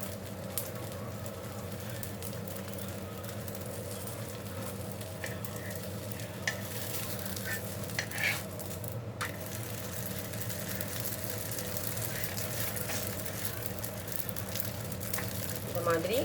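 A parotta cooks on a hot pan, turned to toast both sides, with a low steady sizzle and occasional scrapes and taps; faint background hum runs throughout.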